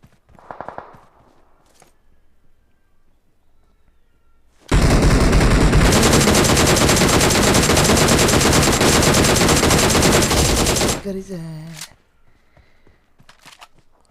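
In the BGMI video game, automatic gunfire rips out as one loud, continuous burst spray lasting about six seconds, bracketed by quieter game sounds and a few faint footsteps.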